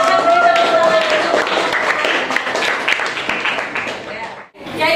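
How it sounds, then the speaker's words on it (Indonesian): A classroom audience claps after a student presentation. The applause is loud and dense and holds steadily for several seconds before stopping abruptly, with voices mixed in. "Ya, oke, silakan beri tepuk tangan dulu."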